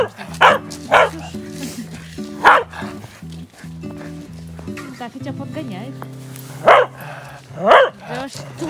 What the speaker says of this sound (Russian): Да что за гавкалка?